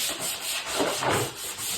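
Continuous rhythmic rubbing of sandpaper over plastic, back-and-forth strokes close up, alone without speech.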